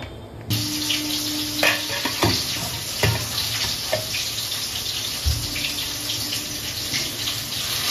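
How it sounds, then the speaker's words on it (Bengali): Fish pieces, two heads and two middle cuts, fry in hot oil with a steady broadband hiss, a few louder spits and clatters over the continuous sizzle, close and fairly loud with no talking. "মাছটা ভাজা হচ্ছে"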